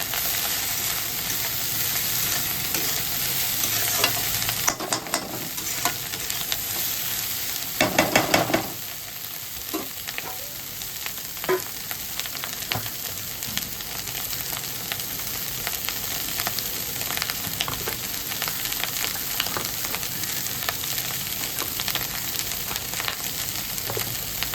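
Chopped pointed gourd fries in a wok for bharta, giving a continuous hissing sizzle, with bursts of louder clatter and crackle as the pieces go in and are tossed.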